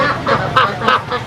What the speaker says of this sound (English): Ducks quack noisily.